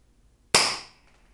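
A Derringer Black pocket airsoft gun fires a single sharp shot, a loud close crack that decays quickly in an otherwise quiet room.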